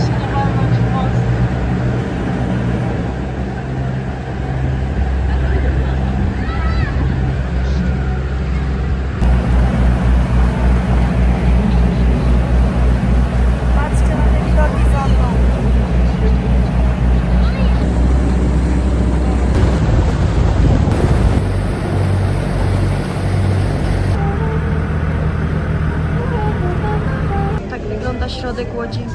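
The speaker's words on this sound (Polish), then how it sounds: "Jedziemy na rejs po rzece, taką łódeczką przy zachodzie słońca." A small boat cruises along a city river at sunset in Melbourne, its engine a steady low drone with water and wind noise, joined by passing sounds partway through.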